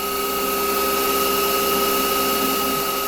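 Small CNC lathe turning and parting off a handle from scrap stock for a model steam engine valve, giving a steady, loud machine whine with strong tonal hum throughout, unbroken and without voices.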